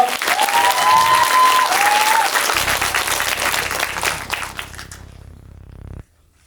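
Audience applause at a school information session for a special-purpose high school program, a dense roar of clapping that fills the hall before tapering off and stopping abruptly near the end.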